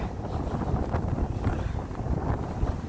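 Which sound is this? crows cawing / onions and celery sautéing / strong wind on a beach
strong wind on a beach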